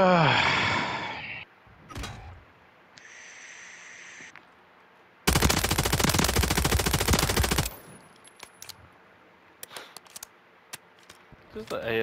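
AMR-9 gunfire in Call of Duty, a loud rapid automatic burst lasting a couple of seconds, preceded by game sounds and followed by scattered clicks and faint shots.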